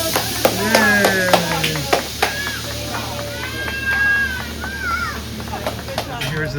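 Goats at a goat farm in Poolesville, Maryland bleat repeatedly in wavering calls over a steady background, mixed with sharp claps and a person talking encouragingly nearby.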